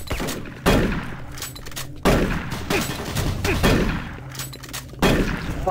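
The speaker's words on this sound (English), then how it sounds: "Okay, cool. Machine gun." Machine gun fire in the video game Doom 3, loud bursts of rapid shots in several separate volleys with short pauses between, each burst starting sharply and trailing off, no talking over it.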